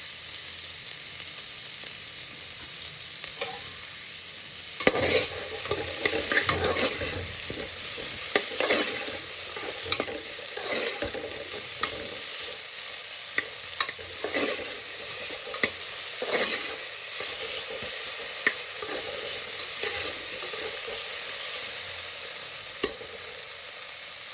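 Salted onions frying in a pan with a steady sizzle, punctuated by repeated scrapes and clinks of a spoon stirring them, close and moderately loud throughout.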